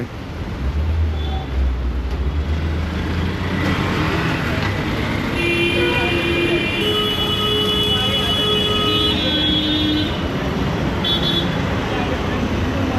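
Busy street traffic in India roars continuously while several car horns honk in short and longer blasts, with voices talking nearby.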